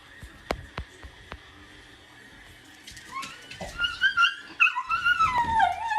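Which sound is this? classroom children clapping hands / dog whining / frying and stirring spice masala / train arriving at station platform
dog whining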